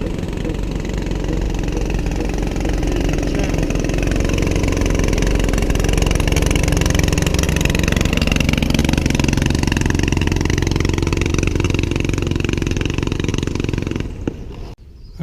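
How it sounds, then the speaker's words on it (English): A loud, close long-tail boat engine with an exposed propeller shaft roars steadily for several seconds in Alor Setar, Malaysia, its pitch climbing as it revs, then cuts out abruptly near the end. "The same type of boat the Thai use, with the blades sticking out the back."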